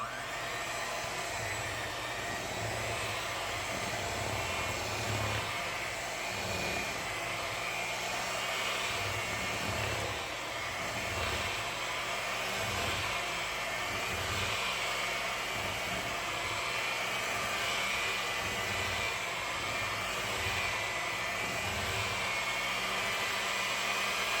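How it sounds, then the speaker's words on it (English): An electric hand mixer whirs steadily at low speed, beating cooked sweet potatoes in a bowl, a constant close, droning buzz with faint rhythmic pulses from the beaters and no talk. "I'm going to start on a lower speed and begin blending this up"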